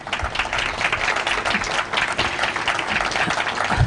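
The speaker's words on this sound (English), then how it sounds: "Let's please give another round of applause to Dr. Chanel Hawkins" A crowd claps at a public event announcing an affordable housing project in Rochester, a dense, steady wash of applause that holds at even loudness from start to end.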